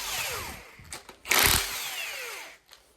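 A cordless power tool whirs and buzzes in short bursts while removing bolts from 440 engine heads on a rough build stand, with a louder surge midway and a brief tail-off at the end.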